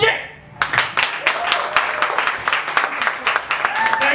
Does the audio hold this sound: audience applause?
yes